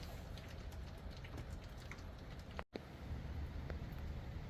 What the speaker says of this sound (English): that's what the weather looks like here in the Pacific Northwest. Just pouring rain for the past couple days.